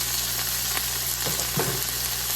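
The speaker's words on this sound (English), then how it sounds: "Those are mixed vegetables. You know, let them cook down a little bit." Mixed vegetables and chopped onion fry in a pan with a steady, dense sizzle close up, broken by a few soft stirring scrapes.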